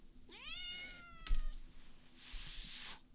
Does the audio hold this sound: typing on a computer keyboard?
no